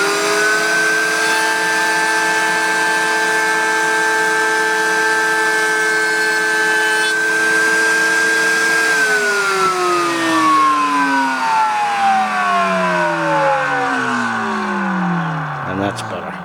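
A Bosch 1617EVSPK router rated at 25,000 RPM, mounted in a Bosch RA1171 router table, runs with a steady loud whine for several seconds, then winds down with a falling pitch.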